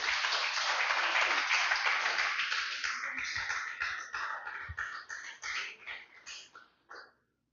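A church congregation claps loudly together during a worship service, a dense burst of applause that thins into scattered claps before fading out.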